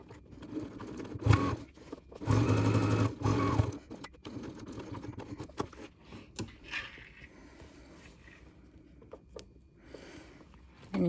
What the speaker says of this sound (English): I'm just going to sew straight down the bottom